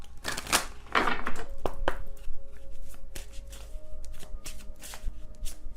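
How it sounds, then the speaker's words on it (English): A Secret Moon Oracle card deck is shuffled by hand, giving bursts of rapid riffling and flicking followed by lighter taps and slides, close and clear with no talk. "I'm using my Secret Moon Oracle deck here."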